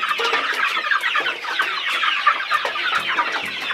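Chickens clucking continuously in a busy, overlapping chorus, close by and fairly loud, with no talking.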